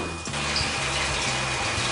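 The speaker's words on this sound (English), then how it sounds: "So we'll fill up our sink." Running water gushes steadily from a tap into a sink, a continuous rushing hiss close by.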